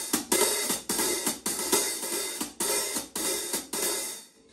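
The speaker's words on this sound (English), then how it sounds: "So this is called the hi-hat." A hi-hat cymbal is struck with a stick in a steady, evenly spaced pattern of about eight bright, crisp hits. Each hit rings briefly, and the last one fades out with no voice over it.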